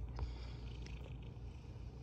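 A house cat purring steadily and fairly close, a low continuous rumble held throughout with a brief faint higher sound near the start; no talking.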